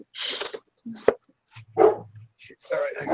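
A dog barks in short, separate yips and barks nearby, mixed with people talking in between.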